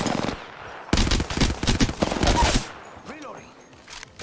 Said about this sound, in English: Four shots.